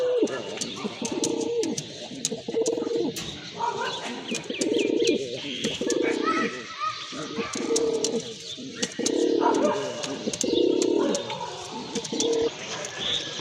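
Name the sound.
pigeons cooing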